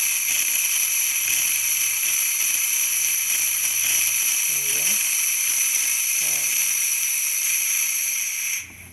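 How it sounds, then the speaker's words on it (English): Steam wand of a DeLonghi K-Mix coffee machine releasing a powerful, steady steam hiss that runs nearly the whole time at high level, with brief faint low sounds in the background before it cuts off at the end. "As you can see, powerful steam."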